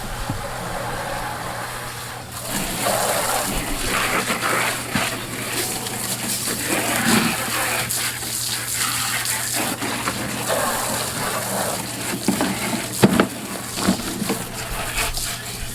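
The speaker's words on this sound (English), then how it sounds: "we're going to wet down our cooler" Water sprayed from a hose to wet down a white cooler, a steady rushing gush lasting about fourteen seconds. Brief splashy bursts stand out near the end, with a low hum underneath.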